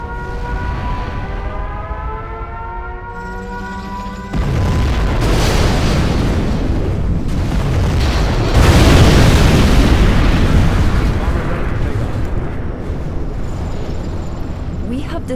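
Nuclear missile launch and detonation in the real-time strategy game Command & Conquer Generals Zero Hour, a loud sustained roar and rumbling blast with a siren-like tone early on, with game voice announcements around it.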